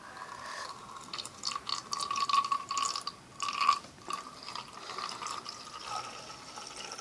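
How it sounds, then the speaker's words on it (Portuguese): Water is poured into a container while preparing homemade apple slime, giving a steady, moderately quiet splashing trickle with a brief louder gush midway. "E eu vou pôr água."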